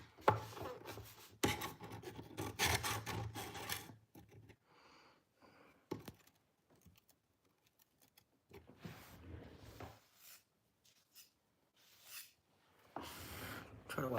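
Dull Dexter fillet knife drawn across a 400 grit sharpening stone, producing bursts of close scraping and rubbing strokes separated by quieter pauses, with faint talk in between.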